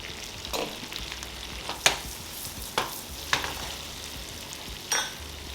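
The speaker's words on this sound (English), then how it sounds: "We'll saute the onions till they are nice and translucent." Sliced onions sauteing in oil and melted butter, a soft even sizzle punctuated by several distinct spatula scrapes and knocks against the pan, close up with no one speaking.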